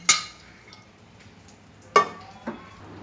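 Chicken fried rice being dished out of a pan: three sharp metallic clinks of a spoon against the pan, spaced apart over a faint background hum.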